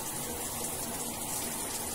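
Hot shower water runs steadily, a soft continuous rushing hiss without breaks.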